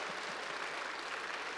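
A church congregation applauding at a revival meeting in Incheon, a soft, steady patter of many hands clapping together, fairly distant and even in level for a brief stretch.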